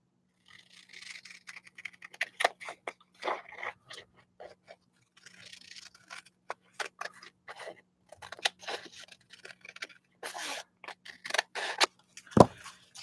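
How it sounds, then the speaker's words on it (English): Scissors cut paper for a collage in a long run of quick, close snips and crunchy slices, irregular in rhythm with brief pauses, alone without talk. "I'm going to cut this right here"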